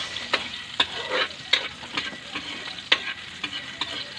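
Mussels sautéed in a pan, a Filipino ginisang tahong cooked with eggplant, give a steady sizzle broken by sharp spatula scrapes and stirring clatters every half second or so, close and fairly loud, with no talking.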